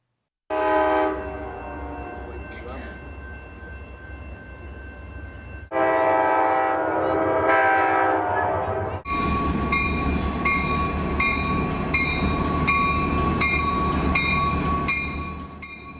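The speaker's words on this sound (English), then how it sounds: "You have probably heard trains, even seen them." A train rumbles past nearby as its horn sounds in long, loud blasts, with the chords shifting between blasts over the heavy rolling noise.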